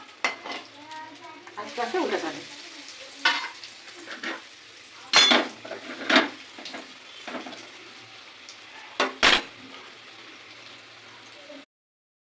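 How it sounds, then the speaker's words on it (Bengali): Potato and tomato cutlets frying in a pan give a steady sizzle with intermittent scrapes and clinks of a utensil, a few sharper knocks, and a quiet voice speaking briefly. "আমি আস্তে আস্তে সবগুলো ভেজে নেবো"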